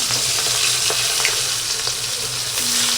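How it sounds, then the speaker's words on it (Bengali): Hilsa fish heads fry in a wok with a loud, continuous sizzle and crackle that stays dense and close throughout, with faint scraping in the background. "দিয়ে দিলাম মাছের মাথাগুলো"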